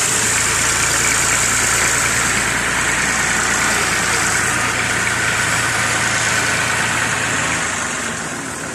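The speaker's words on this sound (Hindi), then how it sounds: "अभी इब्राहिम लेके आ रहा है जी ट्रैक्टर" A tractor engine idles in a steady, low, continuous drone, fairly close, fading slightly at the end with no talk over it.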